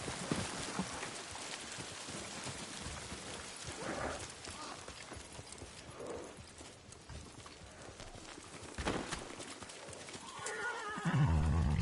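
A horse neighs and hooves clip-clop in Ghost of Tsushima, with the whinny rising toward the end over a steady bed of game ambience and faint rain; a voice speaks briefly.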